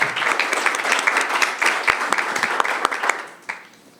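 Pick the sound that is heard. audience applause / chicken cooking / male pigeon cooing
audience applause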